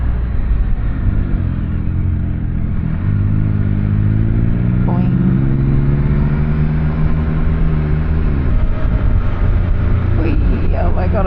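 A Can-Am Canyon three-wheeled motorcycle engine drones loudly while riding, its pitch rising and falling through gear changes over a steady rumble and wind, with a rider talking over it.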